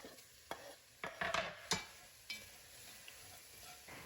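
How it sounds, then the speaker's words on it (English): Cumin, bay leaves and a cinnamon stick searing in a pot, a faint sizzle under several sharp scrapes and clinks of stirring spaced across the clip. "cumin, bay leaves, and cinnamon stick. Sear for about a minute."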